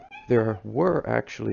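A cat meows clearly and close by, several drawn-out cries overlapping someone speaking indoors.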